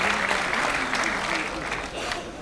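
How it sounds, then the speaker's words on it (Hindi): Audience at a Dubai mushaira applauding to welcome poet Abbas Tabish, a close, continuous burst of clapping that holds steady for the whole moment. "एक बार सम्मान के साथ, जोरदार तालियों के साथ अब्बास भाई को आमंत्रित कीजिए।"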